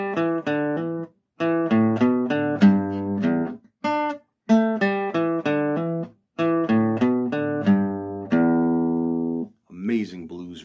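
Electric blues guitar riff from a song, played alone in short repeated phrases with brief gaps, then ending on a sustained chord and a few quick notes.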